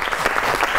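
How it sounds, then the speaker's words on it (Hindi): A studio audience at a comedy talk show claps, giving a brief burst of dense, steady applause at close range. "तालियां बजाइए।"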